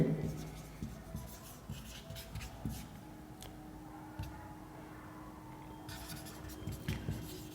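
Pen scratching across paper while notes are written by hand during a physics lesson, a steady run of close, soft strokes and taps with quiet room tone and no speech.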